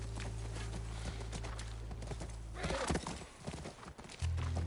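Horse hooves clop over a steady rumble, then a horse neighs loudly before the hoofbeats continue, in the video game The Last of Us Part I; the sound has a produced quality.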